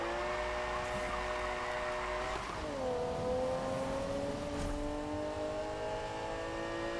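Cars racing in the video game Need for Speed (2015), a continuous engine drone with rising and falling revs and a pitch shift midway, steady and moderately loud with no talk.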